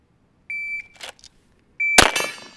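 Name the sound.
shot timer beep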